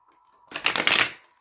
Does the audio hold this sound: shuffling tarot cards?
yes